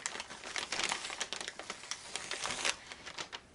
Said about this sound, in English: let me pull this sticker off